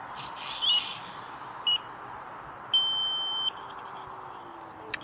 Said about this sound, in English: So the 5-minute timer then is up.